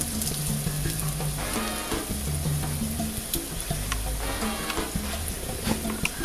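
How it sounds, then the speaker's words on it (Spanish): Egg-battered cauliflower pieces fry in a pan with a steady, close sizzle and crackle, plus occasional low bubbling and clinks, no talking. "vamos a sumergir el pedazo de col aquí en el batido de huevo y vamos a echarlo en el sartén"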